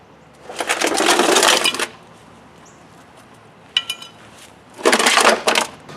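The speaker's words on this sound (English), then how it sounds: "So you want to just keep cranking on that." A spare-tire winch on a 2016 Chrysler Town & Country van is cranked by hand, producing loud close ratcheting, rattling bursts of about a second each, separated by quiet pauses and a few brief clicks.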